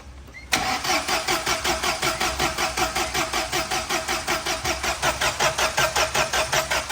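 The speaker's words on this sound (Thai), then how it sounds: "เดี๋ยวลองสตาร์ทดูนะว่า เครื่อง ติดไหมนะ อ้าว สตาร์ทเลย" A car engine on a replacement battery cranks without catching: a sudden start then a long, even, rhythmic starter churn, loud and close, continuing for several seconds with no voices.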